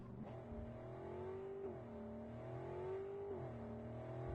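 A car driven in the video game Cyberpunk 2077 hums with a steady engine drone whose pitch rises and dips as it accelerates and shifts, close and continuous with no talk.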